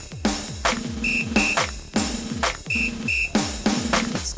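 Pairs of short, bright whistle blasts ring out inside punchy, steady drum-beat music from a rhythm game with a drum-playing theme, with no talking.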